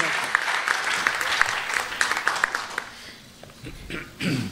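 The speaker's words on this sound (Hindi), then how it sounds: "जोरदार तालियों से इस्तकबाल कीजिए" Applause from a mushaira audience welcoming a poet on stage, several seconds of clapping with a few sharper claps standing out, tapering off into quieter room sound and murmured voices near the end.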